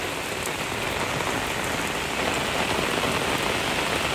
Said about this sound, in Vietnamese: Hình như là cái mưa quá rồi